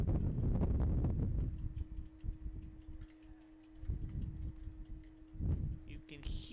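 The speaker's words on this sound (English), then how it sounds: "The wind coming over our broadcast here." Gusts of wind buffet an outdoor microphone at a high school baseball game in Sauget, coming as low, rumbling bursts that rise and fall over quieter stretches.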